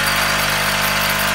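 A modified 1.5 hp electric motor running steadily after being switched on, giving a constant hum with a fixed low tonal drone and a bright whirring hiss throughout the short stretch.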